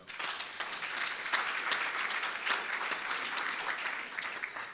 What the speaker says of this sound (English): A round of applause as well, please.